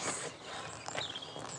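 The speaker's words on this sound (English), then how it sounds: "Perhaps we'll hear the ghost's footsteps." Footsteps in a quiet old house, a few soft, slightly uneven steps at close range over a hushed, airy background, with no talking.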